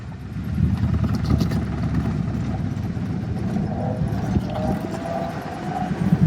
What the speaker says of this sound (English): It pulls away nicely, plenty of power.